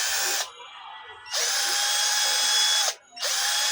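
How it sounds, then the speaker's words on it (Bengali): A battery-powered cordless drill whirs loudly in three bursts, spinning up and stopping abruptly, with short quiet gaps between runs. "এটা হলো ব্যাটারি চালিত ড্রিল মেশিন"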